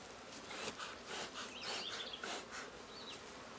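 Agitated honeybees swarm and buzz around an opened hive box, a dense steady drone with individual insects whining past close by, fairly faint overall and with no talk.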